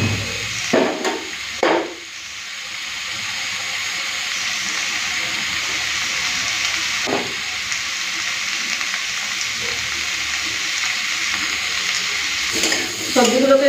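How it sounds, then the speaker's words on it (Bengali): Vegetables lightly frying in a pan for a Bengali spinach chorchori give a steady, close sizzling hiss. A few brief clatters of stirring come near the start and near the end. "সবজিগুলোকে একটুখানি হালকা ভেজে নেব"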